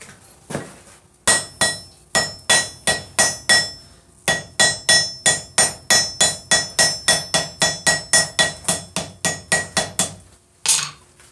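A hammer strikes a forge weld on a ball screw at a live vise-forging demo. About thirty sharp, ringing metallic blows come in a steady, close, loud rhythm, with one brief pause partway through.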